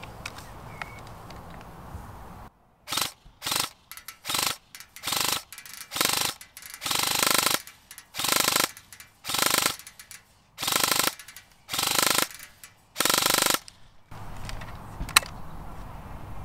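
An AK104 airsoft gun fitted with high speed gears and a mid-cap magazine fires full auto in about a dozen short bursts, each a dense mechanical rattle, with quiet gaps between them, close and fairly loud.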